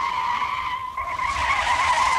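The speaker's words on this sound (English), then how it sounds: "with the wheels locked, it's virtually impossible to control the direction of the car" Tires squeal loudly as a car skids with its wheels locked and no ABS, a sustained screech that wavers slightly and briefly dips before resuming, alone without any voices.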